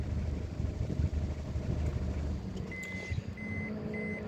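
A Citroën Xantia Activa 2.1 turbo diesel's electronic warning chime repeats in short, evenly spaced beeps over a steady low engine rumble and background noise.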